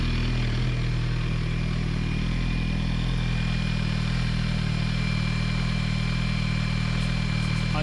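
Yamaha R1 motorcycle engine with the EXUP valve deleted, idling steadily throughout at close range, a constant low rumble with light mechanical clatter and no voices.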